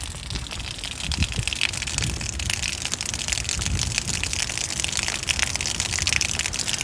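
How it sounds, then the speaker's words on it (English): Rain falls on a Brooklyn, New York City street after midnight. A steady, close, hissing patter fills the air with no voices. "think this is gonna be a nice little walk, just enjoying the rain"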